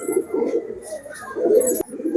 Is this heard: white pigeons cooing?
yes